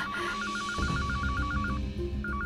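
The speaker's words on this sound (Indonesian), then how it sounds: "Sebaiknya aku telepon rumahnya." An outgoing telephone call rings back in a repeated electronic trill pattern, fairly faint over a low background, pausing briefly before resuming.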